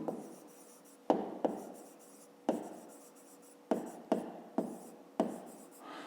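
A pen writes on paper up close with a series of sharp taps and short scratching strokes in an irregular rhythm, and soft voice sounds appear faintly in between.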